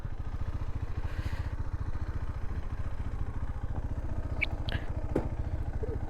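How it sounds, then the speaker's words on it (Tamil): A KTM 390 Adventure motorcycle engine idles steadily with a low, rapid exhaust pulse, close by, with a few faint clinks over it. "எக்ஸாஸ்ட் நோட்டு, எக்ஸாஸ்ட்டுன்னு பார்த்தீங்கன்னா பாருங்கள், இதுதான் எக்ஸாஸ்ட்டு"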